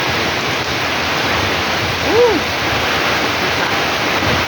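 Strong typhoon wind with rain lashing outdoors, a dense, steady roaring rush that fills the whole stretch, loud and constant, with a brief faint tonal sound partway through.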